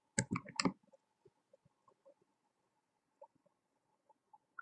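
Computer keyboard keystrokes: a quick cluster of three or four louder clicks at the start, then scattered faint taps spread across the rest, quiet and close.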